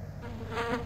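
A fly buzzes faintly for under a second, a thin wavering insect drone that swells slightly midway.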